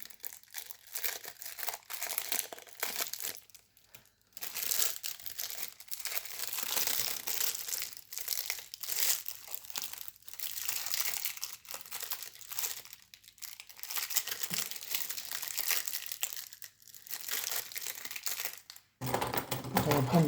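Crinkly plastic wrapper of a Magic: The Gathering Final Fantasy booster pack being worked open, steady close crumpling and rustling throughout, with a person speaking now and then.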